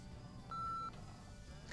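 A single steady electronic tone from a telephone answering machine, lasting under half a second after the greeting ends, moderately clear over a quiet hiss with no voices.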